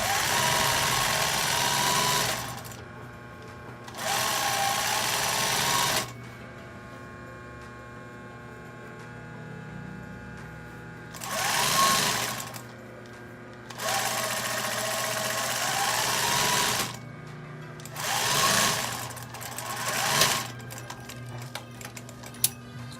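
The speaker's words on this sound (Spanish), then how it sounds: "Vamos a pasar la costura a 1 centímetro." A sewing machine joins the two back pieces of a shirt-style blouse with a 1 cm seam, running in four loud, steady bursts of several seconds each, separated by quiet pauses.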